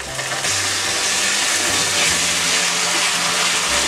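Spices frying in a pan together with ginger paste and tomato puree for a fish curry, giving a loud, steady, close hiss and sizzle with a slight shift early on and no speech.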